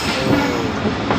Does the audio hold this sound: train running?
yes